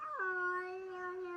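A cat, attacking another cat, lets out a single drawn-out, wavering yowl, moderately close and alone, sliding from a higher pitch down into a sustained moan.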